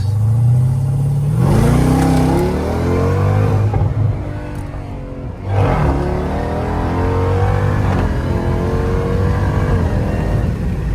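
A Jeep Trackhawk SUV with a modified exhaust revs hard and loud up close at night, throttle rising and falling in repeated surges with a deep, throaty exhaust roar.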